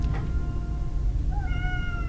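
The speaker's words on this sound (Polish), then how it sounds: "Ma jedzenie, a miałczy." A cat meows a few times, one short cry near the start and a longer rising meow toward the end, over a steady low rumbling background with no talking.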